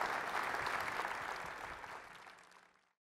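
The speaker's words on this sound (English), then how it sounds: "How about a big round of applause for Dr. Great. Brazeal?" Audience applause at a SXSW Live 2015 talk on personal robots fills the room right after the speaker finishes, steady dense clapping that thins and fades out near the end.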